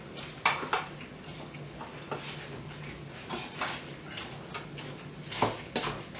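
Chicken almond pastilla ingredients being mixed in a bowl, with clinks of a utensil against dishware and soft stirring scrapes at moderate, irregular intervals, close by and fairly quiet.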